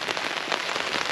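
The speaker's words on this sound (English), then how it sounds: "it's absolutely pouring down with rain" Heavy rain pours down steadily outdoors on a night stop during a long tour on small 50cc mopeds such as a Puch Maxi and BSA Ariel 3, a dense, even hiss of drops with no pauses or voices.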